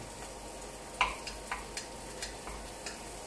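Garlic frying in a pan, with a few soft, scattered ticks and crackles spaced through the clip, faint and close, with no talk.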